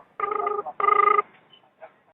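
A telephone rings out after a call is placed, with two long, steady ring tones in a row followed by faint, scattered noises.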